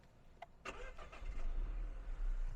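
An Opel Crossland's three-cylinder engine cranks and catches, settling into a low, rumbling idle right up close.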